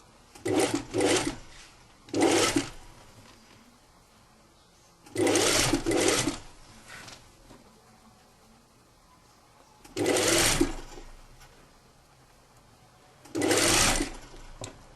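A sewing machine stitches a seam on a tunic-style shirt in four short bursts, each a second or two long, separated by quiet pauses, heard up close.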